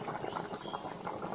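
Jackfruit curry bubbling in a pot, a dense close burble of simmering liquid with soft pops throughout a brief stretch, no talk.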